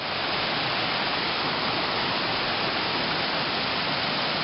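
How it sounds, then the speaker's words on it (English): A spring-fed waterfall at Dunnings Springs pours from the side of a rocky bluff, giving a loud, unbroken rushing hiss that stays constant and close, with no voices. "Spring-fed waterfall comes right out of the side of the bluff there, that big rock formation."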